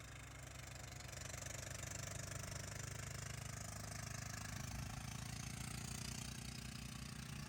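A small tractor fitted with a swapped-in 10HP diesel engine climbs a hill, giving a steady low chugging drone with a faint rhythmic knock throughout, moderately close and without speech.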